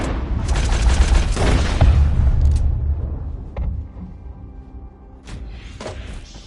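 Several loud gunshots in Red Dead Redemption 2 boom close together in a dense burst, then a few fainter isolated shots and reverberant thuds follow as the echo dies down.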